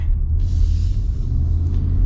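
A 2026 Ford F-150 Tremor's naturally aspirated 5.0L Coyote V8 rumbles steadily at a small racetrack, with a loud, continuous low engine drone close by.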